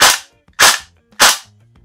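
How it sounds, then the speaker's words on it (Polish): Three separate sharp single shots from a CYMA CM.131 airsoft replica set to semi-automatic, each a loud crisp crack with a short decay, spaced about 0.6 seconds apart, no talk. "jak mamy tryb pojedynczy, to mamy po prostu jeden strzał"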